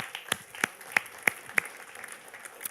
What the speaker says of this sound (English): Let's start to give a big applause to Slush and all those big workers for Slush.